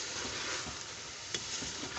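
Onion masala frying in a pressure cooker for a chickpea and meat curry, a steady close sizzle throughout with a brief sharp clatter partway through and no talk.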